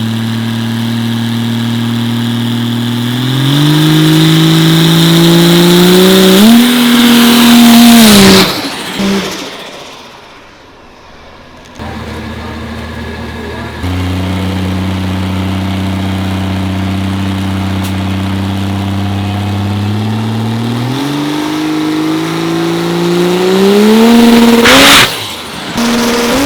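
A Cummins diesel drag race truck engine revs hard and climbs in pitch, cuts off abruptly, then comes back with a loud steady roar and a final rise in revs.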